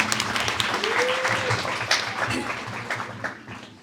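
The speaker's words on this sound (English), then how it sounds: "Let's give ma'am a big round of applause." An audience applauds at a university International Women's Day celebration, steady clapping from many hands mixed with crowd voices and background chatter, fading slightly toward the end.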